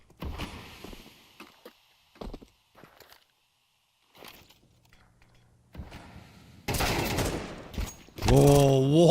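AK rifle fire during a competitive esports match, with loud sustained bursts of gunfire near the end alongside game effects, following quieter in-game movement and clatter.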